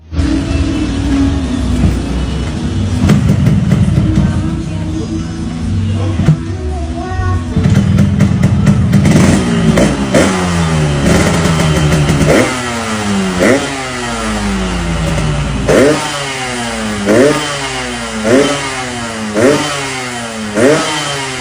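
A 250cc two-cylinder Kawasaki Ninja motorcycle engine revs repeatedly in sharp rising bursts, idling between throttle blips, loud and close with a rough mechanical rattle.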